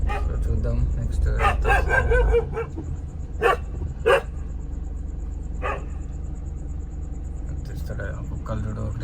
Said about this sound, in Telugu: కుక్కలు చూడు ఒకటే మరుగుతున్నాయి.